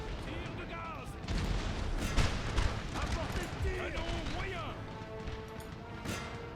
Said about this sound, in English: With 8-pounders, they hopefully can fire canister at that range.